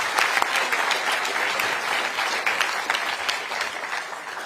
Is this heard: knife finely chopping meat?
no